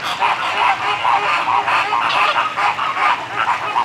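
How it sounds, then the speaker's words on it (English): Zoo birds, flamingos, squawk and honk continuously while fighting, a dense loud chorus of raspy calls overlapping throughout. "A whole lot of squawking going on back there. They're actually fighting."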